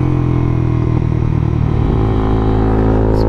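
A 2016 Honda CB300F, a small low-slung motorcycle with low mileage that needs a tune-up, being ridden. Its engine drones steadily and loudly from up close, a continuous mid-pitched hum with no pauses.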